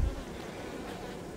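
Honeybees buzz steadily around an opened beehive kept on a balcony, a dense, even hum that stays close and constant with no voices.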